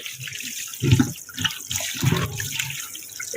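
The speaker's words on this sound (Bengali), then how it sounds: "মাছের গায়ে যে রক্ত টক্ত থাকবে না এগুলো সব ধোয়া হয়ে যাবে" Tap water runs while fish is rinsed in a kitchen sink, a continuous splashing stream with a couple of louder gushes and clatter as the fish is handled nearby.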